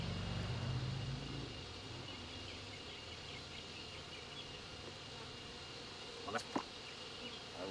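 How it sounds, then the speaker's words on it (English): Dense, steady buzzing of many honey bees swarming around an open beehive in a bee yard, a constant close drone filling the whole stretch with a couple of brief knocks near the end. "The amount of bees that are in here."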